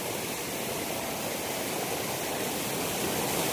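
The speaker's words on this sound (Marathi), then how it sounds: "हा आलोय धबधब्याच्या बाजूला" A waterfall at a village dam roars steadily, a dense, unbroken rush of falling water heard up close with no voices.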